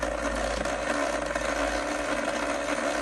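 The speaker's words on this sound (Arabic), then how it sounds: "بعدين نشغل الغسالة" A child's toy washing machine starts up and runs, giving a steady continuous motorized whir and rumble that holds at an even level throughout, with no talking over it.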